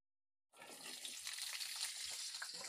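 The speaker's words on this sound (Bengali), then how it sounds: "কেটে ধুয়ে রাখা ফুলকপিগুলো এবার তেলের মধ্যে দিয়ে দেব।" Cauliflower pieces hit hot mustard oil in a wok and burst into a loud, steady sizzle that begins abruptly and crackles on without a break, with no talking over it.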